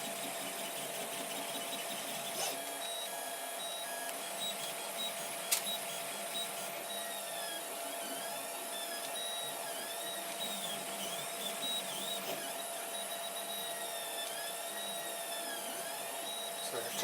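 3D printer working on a medium-sized print, a steady mechanical hum overlaid with repeated whirring stepper-motor tones that rise and fall as the head moves, with a couple of faint clicks.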